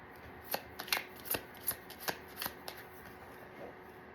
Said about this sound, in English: My cards are falling all over the place.